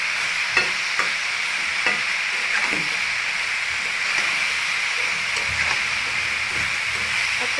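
Winter vegetables with dried lentil dumplings (dal bori) and chilli are stirred in a frying pan, producing repeated scraping strokes over a constant sizzling hiss, close and moderately loud.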